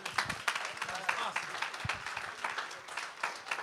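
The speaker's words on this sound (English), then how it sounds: "Come on, clap one more time." Audience applause at a community partnership breakfast, a scattered crowd clapping irregularly at moderate volume, fairly distant, with no one speaking over it.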